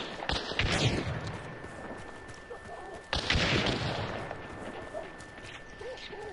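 Pistol shots in a bayou-set video game, two sharp bursts of gunfire about three seconds apart, each followed by a decaying rumble. The shots are moderately loud, with quieter game ambience between them.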